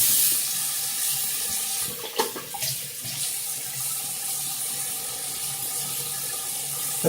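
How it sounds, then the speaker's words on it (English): A bathroom sink full of water emptying down the drain, a steady close gurgling wash of flowing water with a couple of brief knocks partway through and no talk. "I'm gonna empty the sink"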